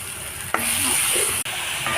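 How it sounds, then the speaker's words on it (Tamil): Tomatoes frying in a pan with chilli powder, turmeric and salt, a close steady hiss of sizzling with a couple of sharp stirring clicks, no voices. "இப்போ தக்காளி கொஞ்சம் நல்லா ஃப்ரை ஆகிடுச்சு"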